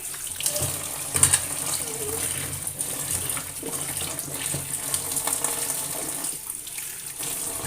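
Tap water runs into a kitchen basin used for cooking while something is washed by hand, a steady close splashing with small clatters and surges throughout.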